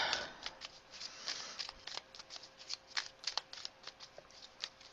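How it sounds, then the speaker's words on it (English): Tarot cards are shuffled and laid down on a surface, a quick series of soft, crisp slaps and riffles, close and quiet with no talking. "let's put down our cards"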